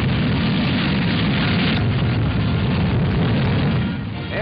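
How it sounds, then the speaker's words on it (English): A captured German V-2 rocket lifts off at White Sands, New Mexico. The launch sounds like a loud, sustained roaring rumble that fills the whole stretch and eases slightly at the end. "the huge missile takes off"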